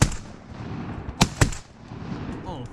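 Two loud shotgun blasts fired in quick succession on a waterfowl duck hunt, sharp and close, with faint outdoor background before and after.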